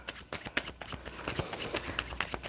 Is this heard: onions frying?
no